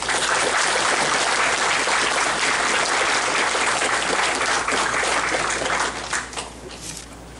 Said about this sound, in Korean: 신현용 조직위원장님 나오실 때 뜨거운 격려에 박수 부탁드립니다.